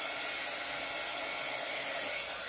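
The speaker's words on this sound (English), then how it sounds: "When my crazy dryer is not making all this noise" A steady, loud electric dryer blows with a constant broadband whoosh and hum, unchanging throughout with no voices.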